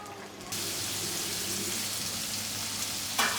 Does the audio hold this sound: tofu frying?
yes